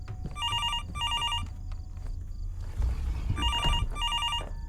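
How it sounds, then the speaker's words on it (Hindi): An old-style telephone bell rings in repeated double bursts inside the Fears to Fathom horror game at night, loud and clear over a low ambient rumble, with a pause before ringing resumes near the end. "फोन आ रहा है, फोन उठा।"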